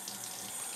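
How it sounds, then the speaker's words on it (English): Cold tap water running over tapioca pearls in a sink, a brief, steady, hissing splash that is close and alone. "it's really important here to rinse and drain the boba under super cold water"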